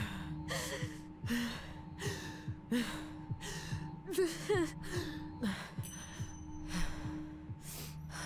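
An injured character in the video game Tell Me Why gasps for breath in a steady series of sharp, strained inhalations and exhalations, close and clear over a low background hum.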